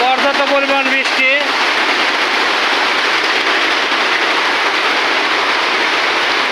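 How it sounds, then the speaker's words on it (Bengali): Heavy rain pours over a roadside near a market, a dense, loud, continuous hiss that takes over after a short tonal sound at the very start. "প্রচন্ড বৃষ্টি হচ্ছে।"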